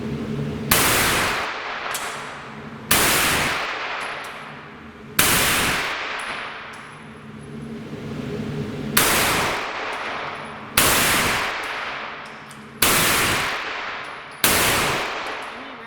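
CZ Scorpion firearm fired in a series of about eight loud, sharp shots spaced a second or two apart, each with a ringing decay and echo, plus faint background voices between.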